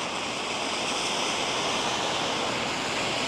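Heavy monsoon rainwater in Innisfail, Australia, rushing down a street like a river. A dense, constant roaring wash fills the whole clip at a steady level, with no pauses and no voices.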